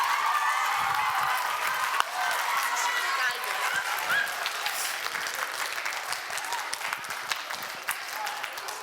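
A school quiz audience gives loud, sustained applause that fills the room, a dense wash of clapping that holds steady before slowly thinning toward the end.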